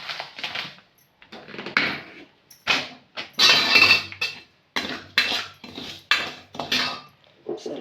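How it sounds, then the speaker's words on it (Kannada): A pan is set on a stove and semolina is tipped in while rava upma is being made. The result is a run of close, sharp metallic clanks and scrapes in irregular bursts, with no talking. "ಸ್ಟವ್ ಬಾಣಲೆ ಇಟ್ಟು ರವೆ ಹಾಕ್ತಿದ್ದೀನಿ"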